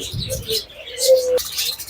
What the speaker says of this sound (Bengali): ভাই এখানে একটা জোড়া কবুতর আছে